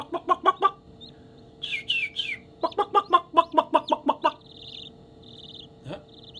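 Rapid series of high, thin peeping chirps in bursts from a chick inside an egg in an incubator, muffled and close, with a person imitating hen clucks in between.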